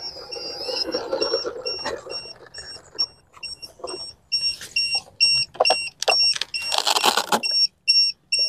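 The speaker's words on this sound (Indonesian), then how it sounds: "ganti baterai dulu karena alarm sudah berbunyi, tidak boleh dipaksakan, harus landing" The low-battery alarm on an RC trainer airplane sounds as a rapid string of high, piercing electronic beeps, repeating in short pulses and growing denser toward the end, after some earlier handling noise.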